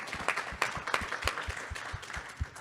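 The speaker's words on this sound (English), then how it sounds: "And a round of applause for Professor Mulvo as well for co-hosting." Audience applause at a town hall gathering, a sparse spread of individual claps of varying loudness rising and fading over a couple of seconds, fairly quiet overall with no talking.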